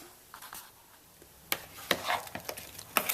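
A spoon gently stirs blackberry pie filling with lemon juice, baby food prunes and salt in a bowl, soft scraping and wet squelching strokes coming in a few close, quiet bursts.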